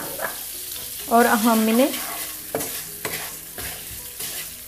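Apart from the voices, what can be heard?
vermicelli frying and being stirred in a pan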